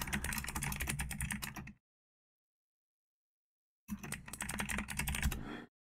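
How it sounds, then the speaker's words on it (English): Rapid computer keyboard typing, close and clear, in two bursts separated by a couple of seconds of silence. "Let me hear my keyboard clicking"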